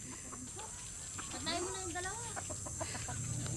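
A chicken clucks and squawks nearby in rural Bicol, Philippines, over a steady hiss of background noise.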